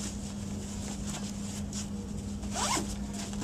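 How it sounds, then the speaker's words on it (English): A Graco Pack 'n Play storage bag is zipped closed, with a short rising zipper rasp near the end over a steady low hum and soft background noise. "Zip up the bag"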